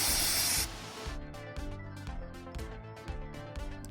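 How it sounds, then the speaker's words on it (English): Brake cleaner sprayed from an aerosol can onto trailer wheel bearings: a loud, hissing spray burst lasting about half a second, followed by quieter tonal clinking and rubbing sounds as the bearings are handled. "Then I'm going to spray some of the brake clean on the bearings."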